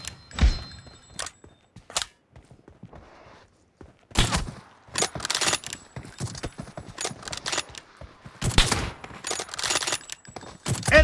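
Repeated M24 sniper rifle shots and other gunfire in PUBG Mobile, sharp loud cracks scattered irregularly with bursts clustering near the end, alongside game clatter and no talking.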